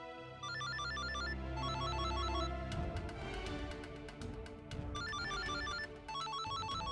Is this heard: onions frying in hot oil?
no